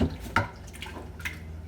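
A little water poured over a tomato salad, giving a few brief, soft splashes and drips nearby.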